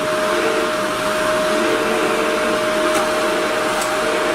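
A Shark vacuum cleaner runs steadily on carpet on a middle suction setting, a loud, constant motor whine and airflow roar with a sustained tone throughout.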